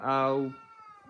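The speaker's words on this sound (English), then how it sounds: "That's a cat saying goodbye." A single drawn-out cat meow, close and clear, trailing off into faint quiet sounds.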